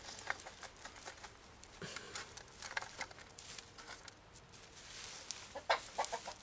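Chickens cluck softly and scratch about in a pile of seaweed and debris at close range, with scattered short clucks and pecking patter over a faint outdoor background.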